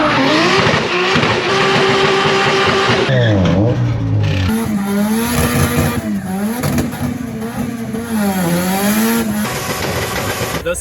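A fully forged Nissan C33 Laurel does burnouts at night, its engine bouncing off the limiter with loud, rapid revving surges and wavering pitch as tyres squeal beneath. The sound is close and dominant, with no talking.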